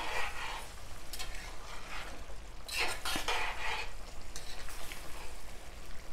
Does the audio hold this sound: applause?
no